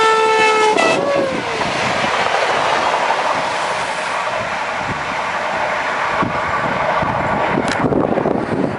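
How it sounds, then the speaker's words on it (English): A passing train sounds its horn in loud sustained blasts at the start, then rumbles past with steady, close, loud clatter and rushing noise, with no talking. "That was the original train passing by, and I hope you heard, but the conductor blew the horn"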